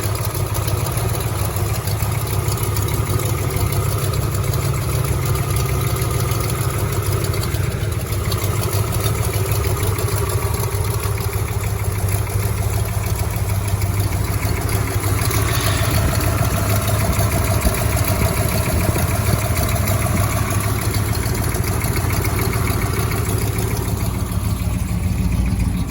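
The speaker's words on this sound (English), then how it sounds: "That's a big engine." A 426 HEMI V8 in a 1966 Dodge Charger idles steadily throughout, a deep continuous rumble with a rough, slightly uneven throb and faint clatter, close by, with a small exhaust leak.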